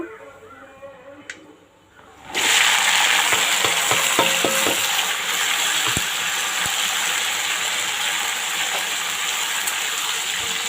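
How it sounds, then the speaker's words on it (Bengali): Vegetables hit hot oil in a wok already seasoned with five-spice and dry red chilli, bursting into a loud, steady sizzle after a quieter start, with a few sharp clinks of stirring. "এবার আমি সবজিগুলোকে সুন্দর করে ভেজে নেব।"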